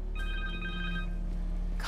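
Dr. Connors' cell phone ringing in Marvel's Spider-Man 2: a warbling electronic ring that trills for about a second, then fades, over a constant low hum with no voices.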